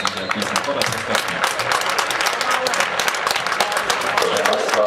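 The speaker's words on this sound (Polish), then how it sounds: "dziękuję za te zasłużone oklaski dla piłkarzy Polniczanki" Applause for the Polonia football players at the end of the first half, a dense, continuous round of clapping from the stadium crowd lasting the whole stretch, with a voice talking over it.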